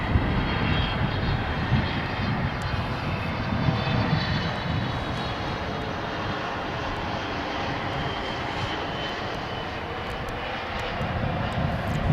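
A plane at DFW International Airport at night makes a loud, continuous roar of aircraft engines that holds steady for about twelve seconds with no talk.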